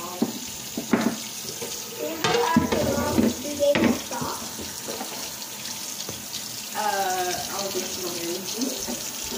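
Garlic being washed under a running kitchen tap, water splashing and gurgling steadily with louder bursts as the cloves are rinsed, close by, with people talking at times over it.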